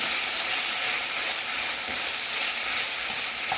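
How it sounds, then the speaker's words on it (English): Breakfast sausage fries in a pan with a dense, steady sizzle and crackle, loud and close, holding evenly for several seconds without talk. "Pick the sausage that you love, defrost it, and cook it up nice and brown"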